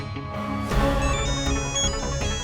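A phone rings with an incoming video call in a Hindi TV comedy drama scene, a steady looping electronic tone sounding clearly for a couple of seconds over a faint musical background, with no talking.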